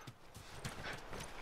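Horse hooves clip-clop in The Last of Us Remastered, a quick run of soft, muffled clops at a moderate distance over a hissy game background, faint and without voices.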